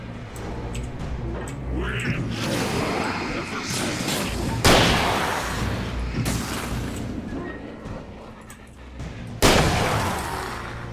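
Heavy shotgun blasts from the Alan Wake video game, two sharp loud booms about five seconds apart cutting through a dense, rumbling game soundscape, with a person talking over the action.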